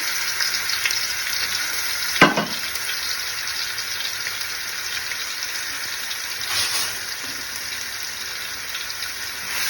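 Ginger and garlic sizzle steadily in a hot pan for beef curry, a continuous crackling hiss with a sharp clatter near the start and a brief stir later, with no voices.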